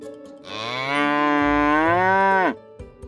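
A cow gives a single long, loud, close moo that rises, holds steady for about two seconds and then drops off sharply, with quiet surroundings before and after.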